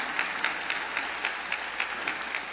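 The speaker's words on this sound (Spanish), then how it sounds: "Denle el aplauso al Señor" Church congregation clapping in a rhythmic, evenly spaced beat, moderately loud and steady, as if applauding together in time during a service.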